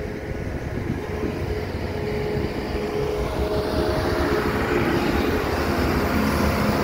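A John Deere 210G backhoe loader digging and loading earth, its diesel engine droning steadily and swelling gradually louder, heard alone without talk.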